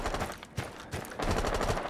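Automatic gunfire in Rainbow Six Siege on the Chalet map rattles in quick bursts, a short burst, brief gaps, then a longer sustained volley, fairly close, with no talk over it.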